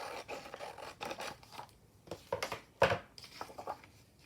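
Scissors snipping through paper for a junk journal cover, a series of quiet, close crisp cuts in short irregular bursts.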